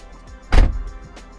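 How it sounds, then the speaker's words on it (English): Driver's side front door of a Volkswagen T5 van closing, a single firm low thud with brief rattle, close and alone. "So this is the driver's side door being closed."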